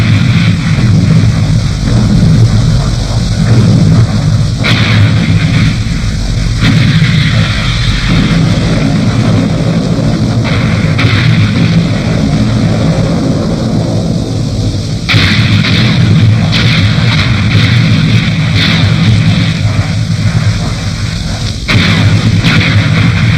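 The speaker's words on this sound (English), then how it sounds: "On the coast, Australian guns were in action against tanks." Australian artillery guns firing against tanks on the coast during the WWII Syria campaign: loud, repeated booming blasts over a constant rumbling wartime background.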